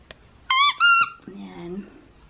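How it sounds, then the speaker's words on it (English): A puppy's squeaky toy gives two bright, pitched squeaks in quick succession, loud and close, followed by a low whining sound. "Bumili ko siya nitong squeaky toy."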